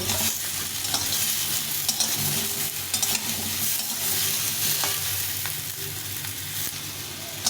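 Papaya, raw plantain and a few beans frying in hot oil for shukto, a continuous dense sizzle with occasional stirring scrapes, close and steady throughout without any voices.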